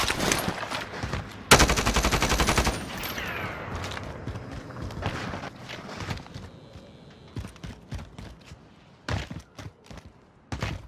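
Gunfire in a Call of Duty match on Rebirth Island: a loud sustained automatic burst near the start, followed by scattered single shots and shorter bursts at varying distances, with a final cluster of sharp shots near the end.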